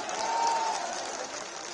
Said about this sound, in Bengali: তারেক রহমান নামে একটা হাততালি হবে না?